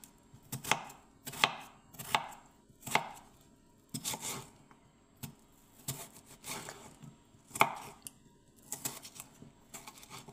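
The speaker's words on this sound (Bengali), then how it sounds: "আমি এবারে কাটবো এই আলুটাকে আপনার।" A knife chops a potato on a board, sharp separate thuds in an irregular rhythm with short gaps, close and fairly quiet, with no voice over them.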